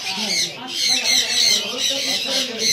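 A macaw at a Mirpur 1 animal market, harsh repeated squawks in a rough rhythm, loud and close, with people talking nearby.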